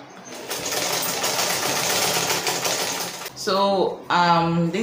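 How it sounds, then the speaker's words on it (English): A sewing machine runs steadily while stitching toddler trousers with an elastic waistband, then stops and a voice speaks briefly over the quiet. "If you have a zigzag machine, please make use of the zigzag machine."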